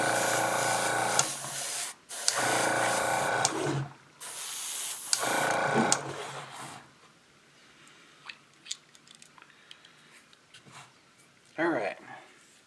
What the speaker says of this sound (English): thin the paint out a little bit more and spray it on there again